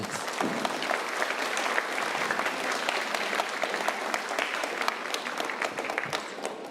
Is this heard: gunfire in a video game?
no